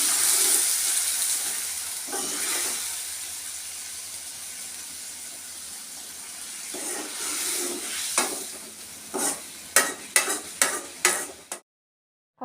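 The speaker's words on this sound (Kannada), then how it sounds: "ಈರುಳ್ಳಿ ಸ್ವಲ್ಪ ಕಲರ್ ಚೇಂಜ್ ಆಗೋವರೆಗೂ ಫ್ರೈ ಮಾಡಿಕೊಂಡು" Onions fry in hot oil for a tempering, giving a steady close hiss and sizzle with occasional stirring scrapes, then a burst of sharp clatters and spatters before the sound stops abruptly.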